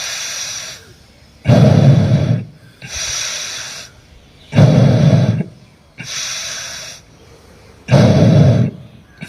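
Slow, controlled yoga pranayama breathing moves in even cycles, close and loud. Deep, forceful breaths alternate with softer ones, separated by short pauses, and no talk is heard over them.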